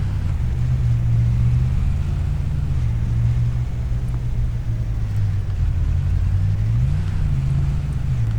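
A car engine in the Farming Simulator 25 video game rumbles steadily at low pitch, rising and settling slightly as the vehicle drives and pulls into a parking space, with no talking.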